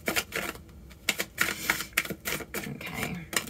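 Tarot cards are shuffled close by in quick papery bursts of rapid flicking and riffling, several short runs of crisp clicks separated by brief pauses.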